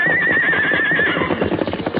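Horse neighing in a radio drama, a loud shrill whinny held for about a second, followed by scuffling hoof clatter and bustle close by.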